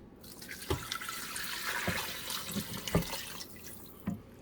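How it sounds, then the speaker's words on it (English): Water added to an Instant Pot holding rotisserie chicken asopao, a close, continuous splashing pour with a few louder drips and plops. "Now all we need to do is add some water."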